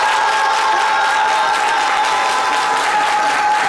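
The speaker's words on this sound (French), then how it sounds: "Vous savez pourquoi je vous aide à applaudir?" A television studio audience applauds during a French midday talk show, a dense, steady wash of clapping that stays loud and even throughout, with no voices on top.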